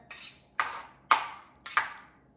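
A knife cutting onions and garlic on a board gives four sharp, evenly spaced chops, close and crisp, with quiet between each strike.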